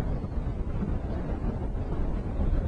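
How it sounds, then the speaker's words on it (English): Wind blows over a lake during a fishing trip, a continuous low, blustery rumble buffeting close to the microphone with no other distinct sounds. "with this wind blowing like it is"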